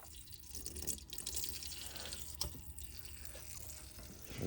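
Motor oil drains steadily from a Toyota Tacoma Trailhunter engine during an oil change, a continuous close liquid pour with a faint trickling hiss and no talking.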